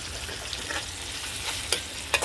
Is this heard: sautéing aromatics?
yes